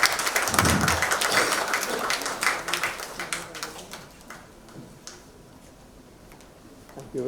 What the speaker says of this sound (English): Can I have a round of applause for it